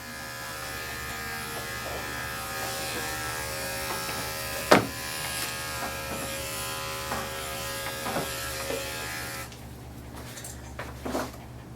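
Electric dog clippers fitted with a 4 guard buzz steadily while trimming a terrier's ears, a continuous close hum with a few sharp knocks and rustles, stopping near the end as handling noises take over.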